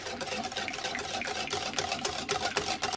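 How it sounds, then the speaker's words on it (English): Milk and cream whisked together in a bowl for a low-carb keto pumpkin pie filling, a busy, steady clatter of quick whisk strokes close up with no talking. "And just give them a little whisk in."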